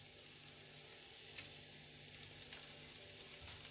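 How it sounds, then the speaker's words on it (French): Red onion, carrots and garlic sizzle in olive oil in a frying pan, a steady, even crackle throughout with small spits and pops, close and fairly quiet. "vous allez mettre une poêle avec de l'huile d'olive. On va faire cuire nos légumes."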